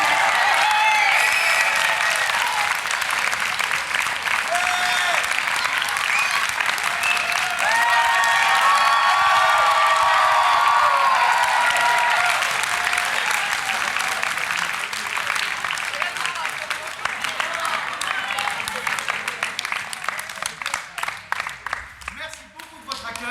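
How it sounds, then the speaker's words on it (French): After a theatre performance of the Dionysos project, a large audience applauds and cheers for over twenty seconds, with bright whoops and voices rising in the middle before the clapping thins into scattered claps. "il faut peut-être plus d'applaudissements"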